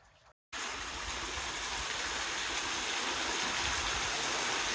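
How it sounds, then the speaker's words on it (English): Water rushing steadily at Shower Bath Spring beside a shaded Grand Canyon creek, a loud, close, continuous gushing wash that starts abruptly after a brief quiet moment. "Pretty sure this is shower bath spring."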